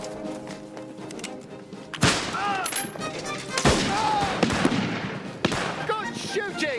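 Musket volleys crack out in a battlefield skirmish: sharp broadband reports at about two, three and a half and five and a half seconds, each trailing into rumbling noise, with shouting voices in between.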